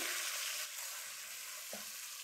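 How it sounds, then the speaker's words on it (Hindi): Chicken sautéing with turmeric, red chili powder and salt over a medium to low flame makes a faint, steady hiss of frying, with a few light stirring touches and no voices. "अब इसको हम अच्छे से भूनेंगे"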